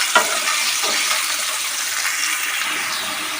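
Chopped banana flower frying with salt in a pan, a bright, steady sizzle up close with a few soft stirring knocks early on.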